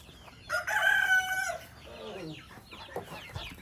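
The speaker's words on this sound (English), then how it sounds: "That rooster done saw me coming." A rooster crows once nearby, a loud drawn-out call, followed by softer clucking and faint background noise.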